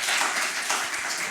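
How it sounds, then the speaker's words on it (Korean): An audience in a church service claps in a brief burst of dense applause, steady and fairly loud throughout, with no talking. "아, 박수."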